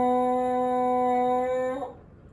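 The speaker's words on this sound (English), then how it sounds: "The first way is in whole notes, where we sustain the note for four beats" A French horn holds one sustained whole note for four beats, a steady, rich tone played close and clean that fades out cleanly at the end with no other sound.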